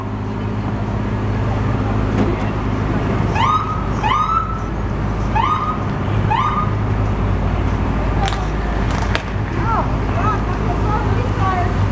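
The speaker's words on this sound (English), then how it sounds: "that's why I start hearing sirens" Police and fire emergency vehicle sirens at a rollover crash rescue in Colorado Springs, with repeated rising and falling wails amid traffic noise and people talking nearby.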